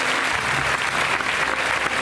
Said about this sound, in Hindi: बहुत अच्छी बात है, ताली बजाओ बेटी